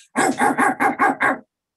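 A human voice imitates a vicious dog barking, six sharp, evenly spaced woofs in quick succession, loud and close, then stopping abruptly into silence.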